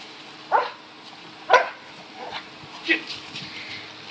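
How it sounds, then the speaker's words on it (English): Several sharp dog barks and yips sound close by, spaced about a second apart, during a dispatch-style scene with a faint radio-like background. "Look at the dog."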